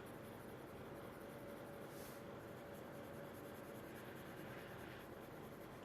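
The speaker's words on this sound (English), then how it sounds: "I'm barely touching the paper because I don't want to make it super dark." Colored pencil lightly shades on paper with faint, continuous soft scratching, close but quiet, over a steady hiss of fan noise in the background.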